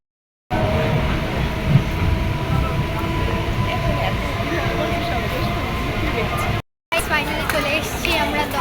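A local train running toward Dum Dum, steady loud rumble and rail noise from inside the carriage, with a brief cut and faint clickety-clack, crowd babble mixed underneath.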